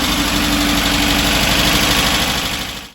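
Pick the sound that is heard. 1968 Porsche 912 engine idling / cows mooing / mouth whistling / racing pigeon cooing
1968 Porsche 912 engine idling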